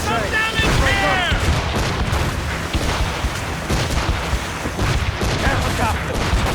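Enemy ship cannons in Assassin's Creed Rogue fire in a heavy, rolling barrage of booms and blasts, dense and loud throughout, with shouting voices mixed into the battle.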